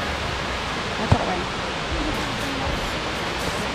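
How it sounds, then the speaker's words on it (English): Steady broadband rush of the waterfall at Amicalola Falls in the North Georgia mountains, a constant distant roar filling the whole clip with one brief knock near the start. "Oh, look, waterfall, way ahead."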